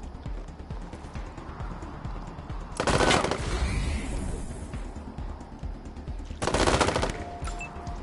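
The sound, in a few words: gunshots in the video game Wasteland 3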